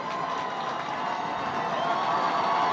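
Sustained crowd noise at a varsity high school football game between Lake Orion and West Bloomfield, a broad cheering roar holding steady and swelling slightly toward the end, with no distinct voices standing out.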